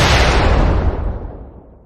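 A loud, booming gunshot sound effect bursts at full strength and then rolls away in a long, fading reverberant tail over about two seconds, with no voices.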